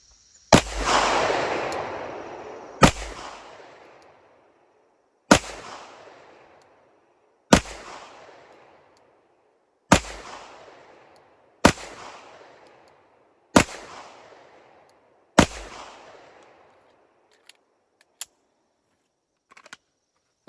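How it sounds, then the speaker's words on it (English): A CZ 75 SP-01 handgun fires about eight shots at a cardboard target outdoors, loud sharp reports spaced roughly two seconds apart, each followed by a rolling echo, with quiet gaps between. "we're going to take a few shots and see what we get"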